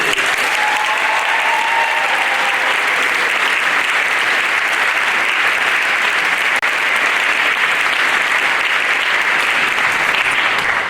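Loud, sustained audience applause fills a convocation hall as a returning speaker is welcomed, a dense steady clatter of many hands holding evenly for about eleven seconds with no break.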